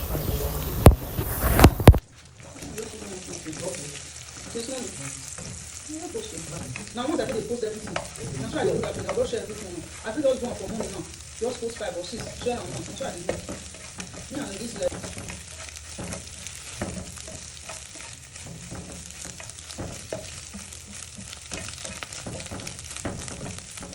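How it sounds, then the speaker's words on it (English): Eggs scrambled in hot vegetable oil in a pan, a continuous close sizzle with stirring and scraping pulses running steadily throughout, after a brief loud burst at the start. "Then you are going to scramble your eggs."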